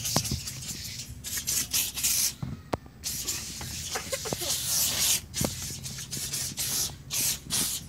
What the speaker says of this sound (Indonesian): yang pertama kita semprotkan dulu ya dengan alat pembersih interior ini ke tempat yang ada